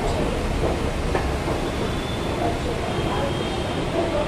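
A Pune metro train bound for Swargate arrives at Pimpri station, a steady rolling rumble with faint rail clatter filling the whole moment, platform noise and a voice murmuring underneath.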